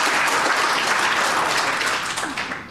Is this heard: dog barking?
no